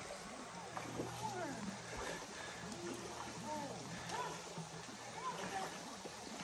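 A hiker on the Appalachian Trail wades across Lick Creek, with faint sloshing and splashing of water as they move through the stream. Quiet rushing of the creek runs underneath, along with soft vocal sounds.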